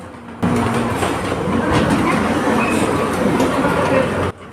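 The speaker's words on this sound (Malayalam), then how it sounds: "ഓർഡർ ചെയ്തപ്പോൾ ട്രെയിൻ ഭക്ഷണം കൊണ്ടുവരുന്നുണ്ട്." A toy train runs along a rail screwed onto a restaurant table, delivering food at Platform 65 in Jayanagar, Bangalore. It makes a steady, close rattling rumble for about four seconds over faint room noise.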